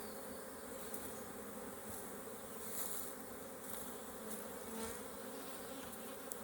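Honey bees swarm and buzz around an open hive during an inspection, a dense, steady insect drone close by with individual bees flitting past, no talking.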